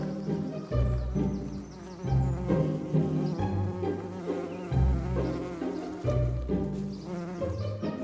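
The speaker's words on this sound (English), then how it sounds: "Bees migrate throughout WA and sometimes stop for a break along the way" Persistent buzzing of migrating bees in Western Australia, close and droning with swelling and fading pulses over a low hum, no voices.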